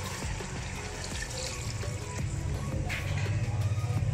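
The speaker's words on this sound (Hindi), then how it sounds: "अब मैं 4 कप पानी के डाल के ना इसको तकरीबन 30 मिनट के लिए ना पकने के लिए छोड़" Water runs from a tap or is poured into a cooking pot while chicken nihari is being made, a soft continuous splashing that grows fuller toward the end, heard alone.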